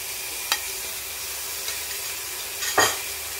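Ginger and garlic paste frying in a pot for pilau under a steady soft sizzle, broken by two brief spoon scrapes against the pan, the second longer, with no voices.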